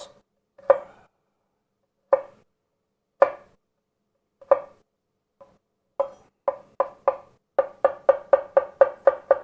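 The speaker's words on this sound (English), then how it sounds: "We have a couple of cloves of garlic, which I'm going to mince." A knife minces a couple of garlic cloves on a cutting board, starting with slow, single crisp chops that speed up into a rapid, even rhythm of close taps.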